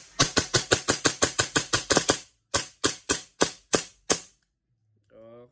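Repaired gas airsoft gun firing on full auto: a rapid burst of about a dozen sharp cracks, a brief pause, then a shorter burst of five or six shots, loud and close, ending with a short low hiss.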